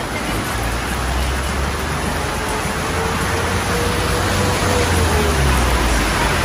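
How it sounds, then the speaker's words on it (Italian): Heavy rain falls steadily near a temple in Bali, a dense, even hiss of drops with a low rumble underneath and no talk, loud and unbroken throughout. "Comunque ragazzi, guardate la pioggia."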